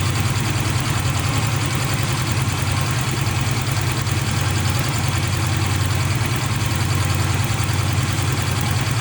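A car engine idles steadily as it warms up, the fuel injection still running rich before the temperature sensor reads it as hot. A continuous close, even hum runs throughout with no talking.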